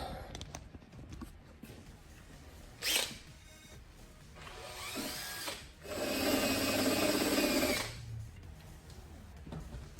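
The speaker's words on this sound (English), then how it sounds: "Oh, I gotta grind that. I'm gonna grind it." A power tool grinding a metal part for LS1 fuel system prep in a weld shop, bursting in short whirring runs with one long harsh grind near the middle, quiet pauses between.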